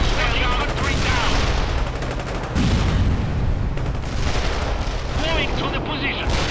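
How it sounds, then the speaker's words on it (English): Incoming gunfire and artillery in World in Conflict, a real-time strategy war game: a loud, unbroken wash of rumbling explosions and rattling shots, with one brief drop midway before the barrage resumes. "Incoming fire."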